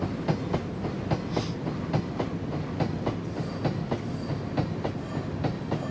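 A BR Class 31 diesel locomotive in Train Simulator runs steadily along the rails, its wheels beating a regular clickety-clack rhythm over the joints beneath a constant low rumble, with no voices.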